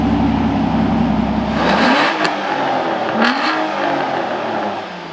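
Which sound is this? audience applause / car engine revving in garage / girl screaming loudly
car engine revving in garage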